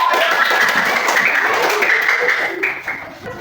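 Schoolchildren applaud in a classroom, a moderate burst of scattered claps that thins out and fades toward the end, with some voices in the background.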